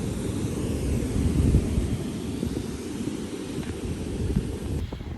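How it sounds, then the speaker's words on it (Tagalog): Wind gusts over Kamugaway Beach at night, a loud low buffeting rush with surf-like wash, fluctuating but continuous, no voices. "habang lumalalim yung gabi dito sa tabing dagat ng Kamugaway Beach, lalong lumalakas yung hangin"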